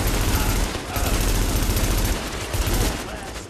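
Sustained automatic blind fire in The Division, a dense, loud, unbroken rattle of gunshots that fills the whole stretch and fades slightly at the end.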